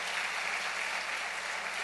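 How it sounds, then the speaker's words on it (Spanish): A church congregation applauds during a sermon, a steady dense wash of clapping heard from some distance and moderately faint, with no voices over it. "Denle un aplauso al Rey"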